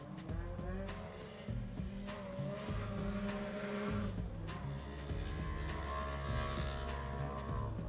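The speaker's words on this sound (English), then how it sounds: "Yeah, it's definitely the turbo." A turbocharged desert race car engine roars loudly and continuously, with shifting revs and a lagging, surging note as power builds, heard close with no talking over it.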